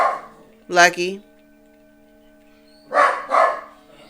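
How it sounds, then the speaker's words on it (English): A dog barking indoors: a quick pair of sharp barks, a pause, then another pair of barks, loud and close with a little room ring after each. "You're still barking."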